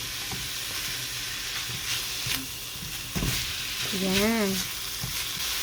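Ground pork frying in its own rendered fat in a pan with ginger, onion and garlic, a steady close sizzle and crackle with occasional stirring clinks and a short spoken word.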